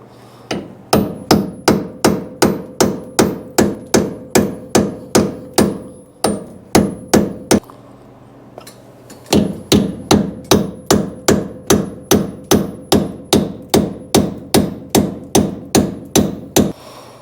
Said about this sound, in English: So I'm gonna try my chisel, see if I can just pop the corner up.